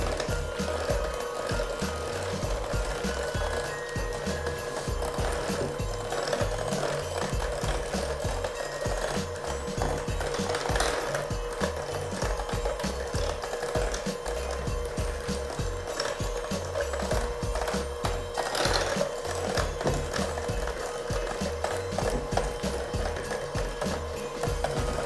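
A stand or hand electric mixer creams Christmas cookie dough at medium speed, giving a steady, close whirring drone with a rhythmic low churning that runs the whole way through, with no talking over it.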